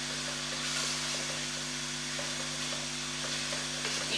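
Minced beef and leeks frying in a pan, a steady close sizzle with faint crackles and a constant low hum beneath, continuous throughout with no voices.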